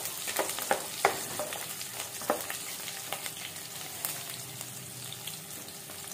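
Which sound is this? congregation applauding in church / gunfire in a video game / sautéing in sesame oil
sautéing in sesame oil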